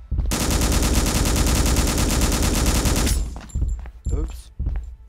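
Gunfire in the zombie video game Gynophobia: about three seconds of rapid, continuous automatic shots, loud and close, followed by a few scattered bursts and clicks.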